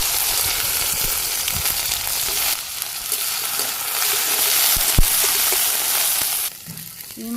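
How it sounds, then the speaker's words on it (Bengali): Okra frying in oil gives a loud, steady sizzle with close stirring and occasional sharp clicks of a utensil, continuous throughout. "তো না আবারও তেল দিয়ে দিব, ঢেঁড়সগুলো ভাজি করে নিব।"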